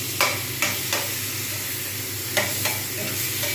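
Onion paste going into a pan of pointed gourd already frying in oil, with a steady low sizzle and a few crisp stirring clacks spaced through it, no talk.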